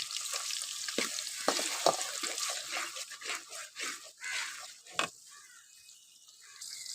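Onions frying lightly in oil for chicken biryani, a soft, steady sizzle with bursts of crackle and occasional sharp pops, fairly faint and heard without talk.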